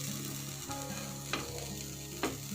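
A cheese bread sandwich frying in a pan, giving a steady close sizzle throughout with a couple of faint scrapes as it is handled, and no talking.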